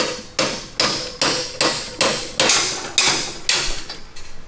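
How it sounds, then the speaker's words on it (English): A hammer strikes a bolt to drive a bronze bushing into a Rascal Lite mini bike, giving nine evenly spaced, loud, ringing metallic blows, each with a short decay. "it's a good way to hammer the bronze bushing in straight"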